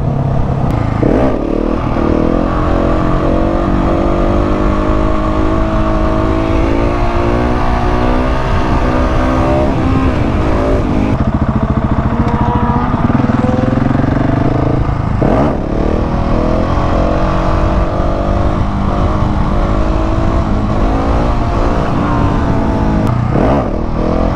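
KTM SMC-R 690 supermoto motorcycle ridden during wheelie practice, its single-cylinder engine droning loud and close with repeated rises and drops in revs as the rider accelerates and shifts, wind noise underneath.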